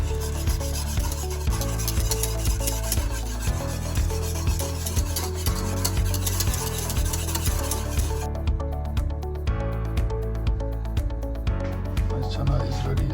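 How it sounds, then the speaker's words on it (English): Spoon stirring a thick milk powder mixture for rasmalai, a steady scraping rub against the bowl repeating rhythmically for over ten seconds under background music. "Now I'm going to mix it well so it goes nice and thick."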